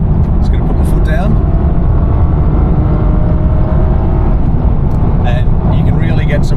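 A Lexus IS250 car with an engine of about 165 kilowatts accelerates hard at highway speed to overtake, with a steady loud engine and road roar filling the cabin throughout and a few brief sharper sounds.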